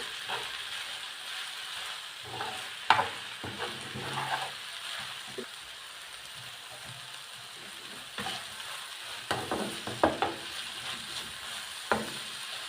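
Chicken breasts fry quietly in a pan, giving a low steady hiss broken by scattered small pops and scraping clicks, with no talking.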